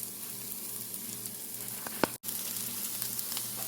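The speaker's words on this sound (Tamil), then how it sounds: "மஞ்சள் தூள் சிறிது சேர்த்து கலந்து வெங்காயத்தை வதங்க விடுவோம்." Onions sautéing in a pan with salt and chili flakes give a steady, quiet sizzle with a soft stir or clink near the middle.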